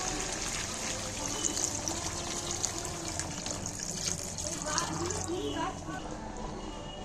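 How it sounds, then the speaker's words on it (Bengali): A little hot water is poured into a simmering chicken curry with potatoes, making a steady close splashing pour that lasts throughout while a voice murmurs faintly beneath it. "একটু সামান্য গরম জল দিচ্ছি"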